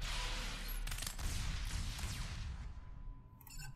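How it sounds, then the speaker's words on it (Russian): Blaster double-shot gunfire from the mobile battle game Star Wars Galaxy of Heroes, a dense continuous burst of shots running steadily for nearly four seconds over low rumbling effects. "Двойной выстрел."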